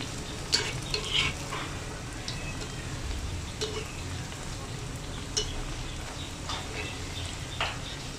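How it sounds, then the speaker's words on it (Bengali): Jackfruit fritters frying in oil as they are turned one at a time, a steady soft sizzle with occasional sharper taps and scrapes of the spatula against the pan. "আমি এখন একটা একটা করে উল্টিয়ে দেবো ধীরে ধীরে।"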